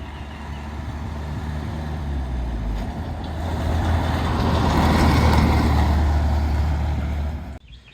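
A 1997 Honda Civic Coupe driving around the block, its engine rumbling and rising to a louder surge midway before dropping off abruptly at the end, with no talking.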